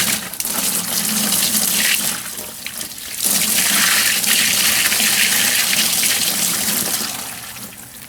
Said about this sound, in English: So this is about 4 gallons of water.